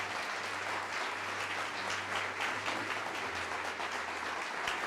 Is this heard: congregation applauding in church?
yes